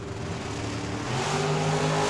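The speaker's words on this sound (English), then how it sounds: "Mark Lalonde, left-hand side in the Camaro" A Camaro and a Corvette accelerate hard at a drag strip, engines roaring and rising in pitch as the sound swells and holds loud, heard from trackside.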